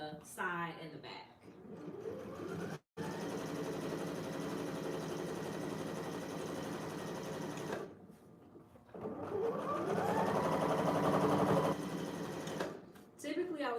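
A sewing machine stitches a seam on a corset dress in three runs of rapid, close mechanical whirring. A brief stop and a longer pause fall between the runs.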